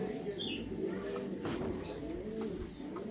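Pigeons of fancy Lahori breeds at a farm loft coo repeatedly in soft, rolling calls close by, with faint chirps and a murmur of voices in the background.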